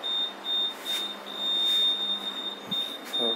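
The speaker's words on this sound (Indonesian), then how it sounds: "sensor parkir udah bunyi ini bunyi karena agak ke tembok" A parking sensor beeps in a steady high-pitched tone with brief breaks as the car nears a wall, heard inside the car with soft rustling and a faint hum.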